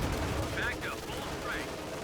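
Machine guns, Thompson submachine guns and rifles firing at a Panzer IV in the Company of Heroes 2 strategy game, a dense, continuous battle rattle with no clear single shots, under a voice.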